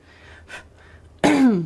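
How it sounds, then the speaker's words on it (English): A couple of soft breaths followed by one short, sharp throat clearing, close and abrupt. "I have to keep clearing my throat"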